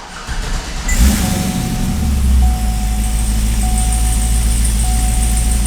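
A Cadillac CTS-V fitted with Texas Speed headers fires up and settles into a loud, deep, steady idle close by, with a faint whine riding over the exhaust rumble.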